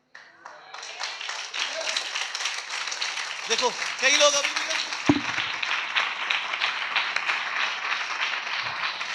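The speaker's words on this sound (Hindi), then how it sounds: "प्रभु की महिमा के लिए ताली बजाइए" A church congregation claps along in praise, a dense patter of many hands running steadily under a preacher speaking loudly over it.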